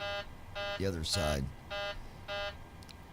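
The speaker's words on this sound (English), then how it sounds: "that beeping is actually the throttle" Repeated harsh electronic aircraft throttle warning beeps sound in a steady on-off rhythm during a test flight, while someone speaks briefly between them.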